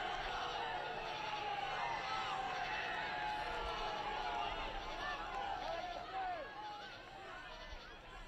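Stadium crowd at a professional soccer match roars during a penalty kick, a continuous loud wash of jeering and cheering voices, with whistles and chatter throughout, easing slightly toward the end.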